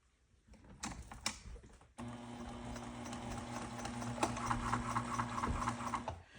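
A sewing machine stitches the corners of upholstery fabric for a chair cushion, starting with a few short bursts and then running in a steady, close whirring rattle for several seconds.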